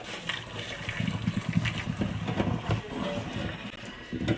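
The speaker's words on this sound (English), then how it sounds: "after about 6 minutes, take your eggs off, drain them." Hot water from a pot of boiled eggs is drained off, a steady gushing, splashing pour that runs fairly loud and close for several seconds, with no voices.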